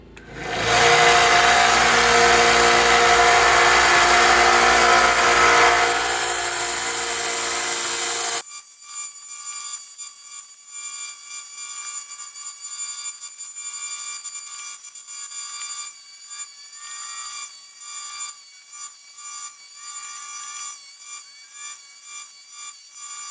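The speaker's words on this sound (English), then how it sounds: "we're going to move on to sharpening the blade on the 1-inch grinder" Railroad spike knife blade being sharpened on a 1-inch belt grinder: a loud, steady grinding roar for several seconds, then a quieter whirring hum with intermittent contact noise, close by.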